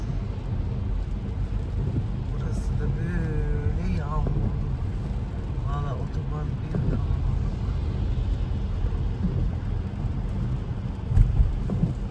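Steady rain hiss with a low rumbling background in foggy Trabzon, Turkey, continuous throughout, while a person talks intermittently over it.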